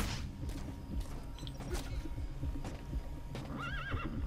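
Horse neighs and whinnies in the Metal Gear Solid V game, with clip-clopping hooves over a busy game ambience; a high wavering whinny stands out near the end, and faint talk may sit underneath.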